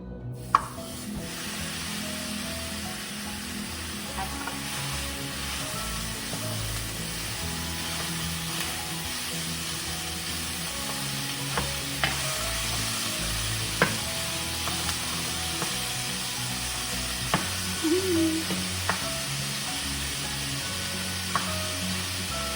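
Ground taco meat sizzles steadily in a hot pan, with occasional scrapes and stirs of a spoon breaking it up. The sizzling is a constant close hiss, with no talk.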